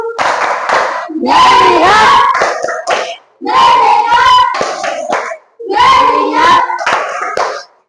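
Students at a school event perform a clapping chant: three bursts of loud, close group chanting with rhythmic hand claps, separated by brief pauses.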